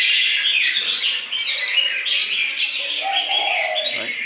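Red-whiskered bulbul, a lively aggressive cage bird, calls in a steady stream of bright, warbling chirps and whistles that carry on without a break.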